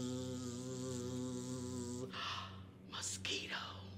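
A voice imitates a mosquito's whine, a sustained nasal buzz for about two seconds, followed by breathy whispered sounds, told during a children's story and song time.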